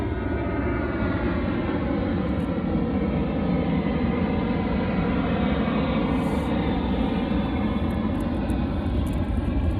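Airplane engine roar drones steadily and loudly throughout, a continuous rumbling overhead pass with no talk.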